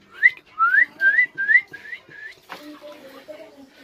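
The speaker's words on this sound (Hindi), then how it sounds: "ये है मेरा कॉकटेल, और ये माशाल्लाह सीटियाँ मारता है, बहुत प्यारी आवाज़ है इसकी।" A cockatiel whistles a run of rising, bright notes, five or six in quick succession, then softer chirps and warbles follow. Close and clear, with no talking.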